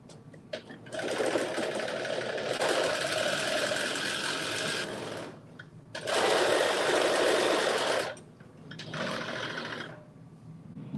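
A sewing machine stitching an understitch on a garment in three loud, steady whirring runs, separated by short pauses with faint handling noise, close to the listener.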